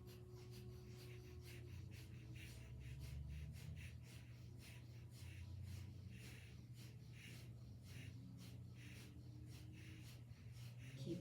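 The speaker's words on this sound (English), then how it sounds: "we are going to take the breath of fire" Rapid breath-of-fire breathing in and out through one nostril comes as a quick, even train of soft, close, pulsing sniffs over a steady low background hum.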